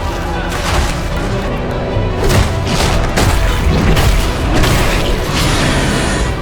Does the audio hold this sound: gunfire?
yes